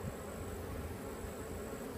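Honey bees hum at an open ten-frame hive box during an inspection after a nuc is installed, a dense, even, continuous buzzing drone close by with no gaps.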